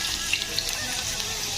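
Onion frying in hot oil, a steady close hiss and sizzle with small crackles throughout, no voices.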